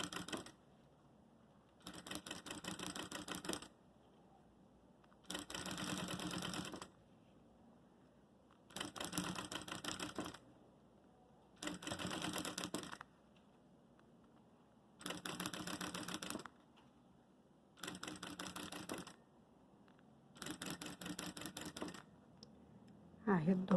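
Bursts of sewing machine stitching as bias binding is sewn onto a makeup case, about eight runs of a few seconds each separated by short pauses, close and steady.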